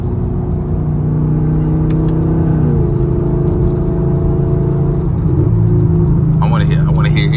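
A straight-piped sixth-generation Camaro SS with an 8-speed or 10-speed automatic pulls hard at night, its loud, steady exhaust roar rising in pitch through the gears, with voices talking over it inside the car.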